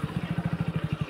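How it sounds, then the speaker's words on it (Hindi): A motorcycle pulls up and brakes to a halt at a large pothole on a jungle track, its engine chugging in a steady, close rhythmic pulse throughout the short moment. "अच्छा हुआ यार बाइक रोक ली"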